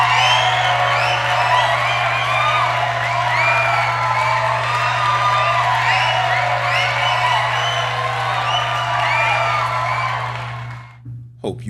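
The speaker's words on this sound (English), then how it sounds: "Round of applause." A podcast audience whoops, yells and cheers in a loud, sustained crowd roar over a constant low hum, lasting about ten seconds before cutting off sharply.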